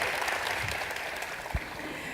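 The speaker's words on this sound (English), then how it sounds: "giving a big round of applause for our esteemed panel here on the stage with me" An audience applauds a panel on stage at a World Economic Forum conference on Asian geopolitics, with steady clapping of moderate loudness and no voices over it.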